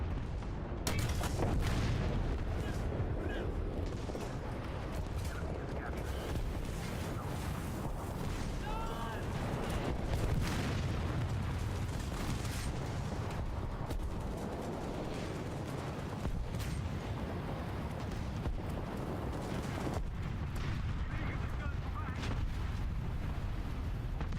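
Artillery fire in the War Thunder combat game, a long steady roar of booming shells and gunfire with repeated sharp blasts, a voice speaking now and then over the din.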